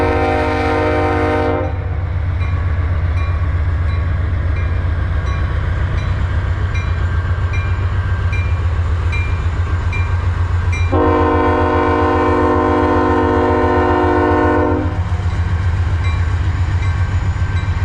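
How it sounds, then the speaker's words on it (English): A CSX manifest freight train rolls past loudly with a steady rumble and wheel noise throughout, its multi-tone air horn sounding a short blast at the start and a longer one near the end. "So Q500 is a daily manifest train that goes from Radnor Yard up to Bar Yard in Chicago."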